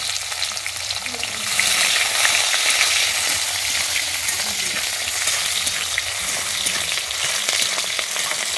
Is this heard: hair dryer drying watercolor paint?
no